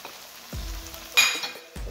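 Green chillies, ginger and coriander drop into hot oil for a restaurant-style lamb karahi, giving soft sizzling with two sudden bursts of frying as ingredients hit the pan, close and fairly quiet, with no talk.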